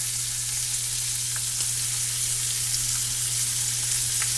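Halibut fries in a pan of butter and lemon with a loud, steady, even sizzle and faint occasional pops, close up and free of any talking.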